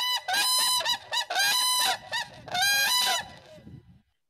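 Whooping cranes give loud, harsh, bugling calls in three bursts of rapid honking notes, close and clear, fading out at the end.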